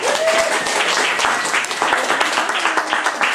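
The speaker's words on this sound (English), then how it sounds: "let's give Steph a round of applause" A crowd applauds at an Arizona volunteer event, with sustained many-handed clapping at moderate level for a few seconds and faint voices or cheers mixed into the wash.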